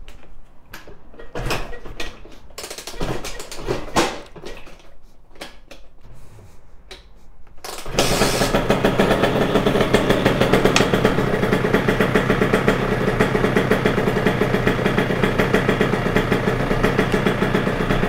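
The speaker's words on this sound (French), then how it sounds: "la moto démarre au quart de tour" A 70cc AM6 motorcycle engine catches after a few faint clicks and knocks, then settles into a loud, steady, continuous idle close by with no talking.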